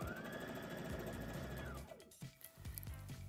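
A sewing machine joins top and skirt pieces of a plaid dress, running in a quiet, steady mechanical whir with a rhythmic patter, then stopping briefly and restarting in short bursts.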